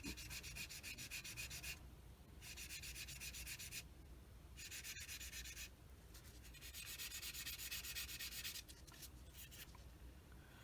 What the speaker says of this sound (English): use a soft sander so I don't leave a flat spot.